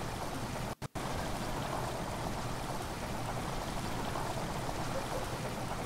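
Water pours steadily in Amnesia: The Dark Descent, a constant rushing flow filling a flooded area, loud and continuous with a brief near-silent gap early on and no talk.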